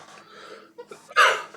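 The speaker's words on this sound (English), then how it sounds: "I don't know why I'm coughing so hard." A single sharp, breathy cough bursts out close up after some quiet rustling and faint breathing.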